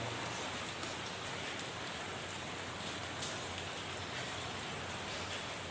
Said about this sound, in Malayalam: അതിനെല്ലാം പരിഹാരമായിക്കൊണ്ട് ഒരു മഴ ഇപ്പോൾ പെയ്തുകൊണ്ടിരിക്കുകയാണ്